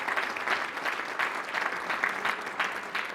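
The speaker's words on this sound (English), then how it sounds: "a round of applause for the Peace Corps" Audience applause at a closing keynote session, with a steady wash of many hands clapping together throughout, fairly distant and even, with no one speaking over it.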